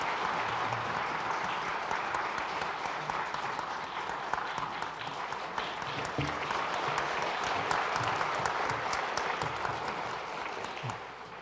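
A church congregation at a Sunday worship service applauds in thanks, a steady, dense wash of many hands clapping that carries on evenly for several seconds and then tapers slightly at the end.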